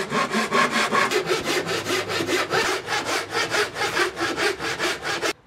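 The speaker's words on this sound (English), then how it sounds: "I'm gonna cut this outside." Close, rhythmic hand sawing through wood for a guitar neck, done outdoors, with fast steady back-and-forth strokes that stop abruptly at the end.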